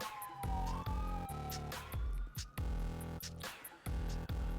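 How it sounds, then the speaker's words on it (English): An ambulance siren wails steadily in the background, its rising and falling tone running under loud, close, repeated knocks and thumps throughout. "Freaking ambulance."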